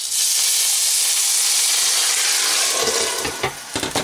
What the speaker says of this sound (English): And then you place the lid on and allow them to steam.